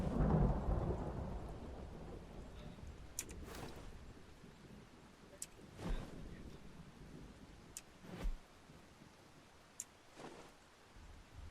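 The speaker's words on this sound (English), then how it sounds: "There's our lightning. It's very heavy lightning, honestly." Heavy thunder from lightning strikes in the storm-chasing game Outbrk, a loud rumble at the start fading into several sharp cracks and booms spaced a few seconds apart, with steady storm noise beneath.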